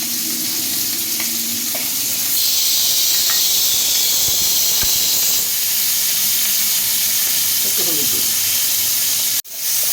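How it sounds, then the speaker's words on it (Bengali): Salted prawns sizzling and frying in hot oil in a kadai, a broad steady hiss that jumps louder after a couple of seconds as they hit the pan, with scattered stirring clatters and a sharp knock near the end. "এই তেলে আমি চিংড়ি মাছটাও দিয়ে দেবো নুন মাখানো আছে চিংড়ি মাছটা দিয়ে দিচ্ছি"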